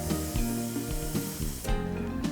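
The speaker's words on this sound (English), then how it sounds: "But it is doing a nice fine spray." Cap Plastic being misted from a handheld sprayer rather than an airbrush, a steady fine hiss running continuously under a background of sustained tonal music.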